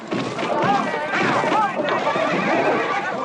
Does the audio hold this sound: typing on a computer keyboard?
no